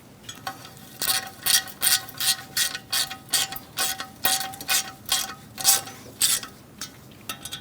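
A ratchet clicks in rapid repeated bursts while tightening bolts on a 2002-2006 Toyota Camry front brake dust shield, about a dozen close strokes in a steady rhythm.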